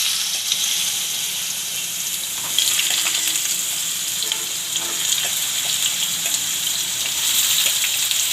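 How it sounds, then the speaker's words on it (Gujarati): Potatoes hit hot oil for a potato and capsicum curry, producing a loud, continuous bubbling sizzle that swells slightly partway through and stays steady to the end. "તો આપણું તેલ ગરમ થઈ ગયું છે. તો આપણે આ બટેટા છે એને આપણે ફ્રાય કરવાના છે"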